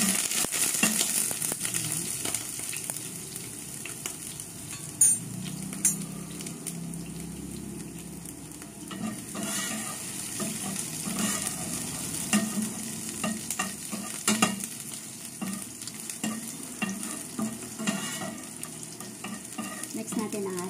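Garlic hits a smoking-hot pan and fries with a steady close sizzle, broken by scraping stir strokes and small clinks of a utensil against the metal all the way through.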